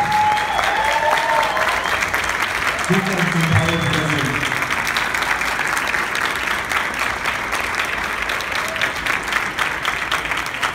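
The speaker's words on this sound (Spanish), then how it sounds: "Con este fuerte aplauso" A crowd applauds steadily, a dense wash of clapping that holds for the whole stretch, with a voice briefly audible over it.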